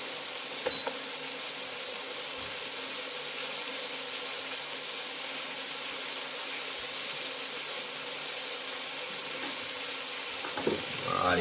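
Steak sizzling steadily in a hot 30cm Fresh Australian Kitchen Onyx cast iron skillet, a continuous loud frying hiss with faint clinks near the end and no talking.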